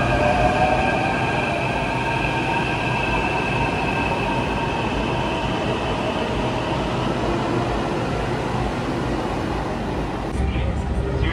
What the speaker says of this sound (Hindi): So this is Pratap Nagar metro station and as you know ये रेड लाइन पर पड़ता है।